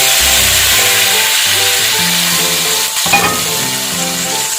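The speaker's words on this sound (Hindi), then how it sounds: "ये हम अब तड़का डाल देंगे अपना।" Hot spice tempering (tadka) sizzles as it is added to kadhi, with loud, continuous frying crackle and a burst of stirring partway through, no talk.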